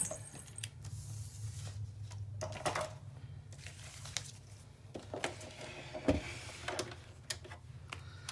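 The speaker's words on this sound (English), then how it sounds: "And then we'll run that through my sewing machine real quick." A sewing machine stitching fabric hums steadily up close, with irregular mechanical clicks and clatter over its low motor drone.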